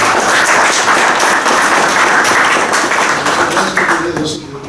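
Loud, sustained applause fills an academy session hall as the assembled members clap together, fading slightly at the close while a voice begins to speak.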